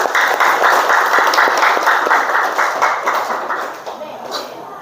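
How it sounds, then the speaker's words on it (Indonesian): A classroom group claps for a student group's presentation, a burst of many hands clapping in quick rhythm that starts loud and slowly thins out and fades toward the end. "Kita beri tepuk tangan."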